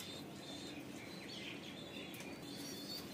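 Quick wingbeats from a pigeon at a Latur pigeon sale flutter nearby, with one sharper burst near the end, set against constant bird chirping and a soft cooing bed.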